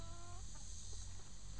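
Chickens cluck softly inside a backyard chicken coop, one brief rising cluck near the start and a few faint clucks afterward over a steady hum of background noise.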